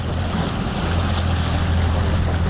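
A fishing boat trolling at about 4 to 5 knots makes a steady, loud wash of engine drone, water rush and wind noise that continues without a break.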